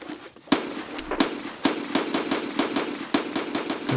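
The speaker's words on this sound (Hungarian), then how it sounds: "lövöldözik mindenki mindenkire" Gunfire in the game Escape from Tarkov, a string of sharp cracking shots at irregular intervals, some close and loud, others quicker bursts, echoing over a noisy background.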